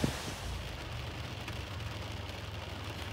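Rain and wind blow outdoors as a steady, broadband wash of noise with a low rumble underneath, moderately loud and unbroken, with no voices.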